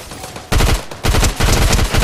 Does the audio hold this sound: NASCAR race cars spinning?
no